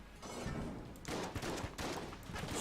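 Shotgun enemies firing in the Enter the Gungeon video game, a rapid volley of sharp blasts in quick bursts, fairly close and loud, with no talking.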